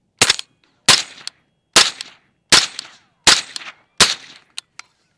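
Supersonic rounds from a suppressed DPMS Kitty Kat rifle crack out in a string of about six sharp, loud reports, each followed by a brief decaying echo, evenly spaced under a second apart with near silence between.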